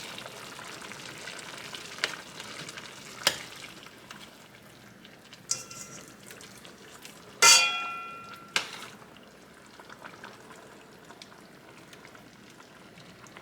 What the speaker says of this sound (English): So I'm just going to take the fish and drop it down in there.